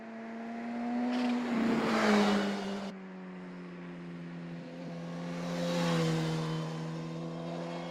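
A 2020 Suzuki Katana motorcycle ridden on a sunny winter day on the Gold Coast, its engine holding a steady humming drone while louder rushing swells rise and fade twice over it, no voices.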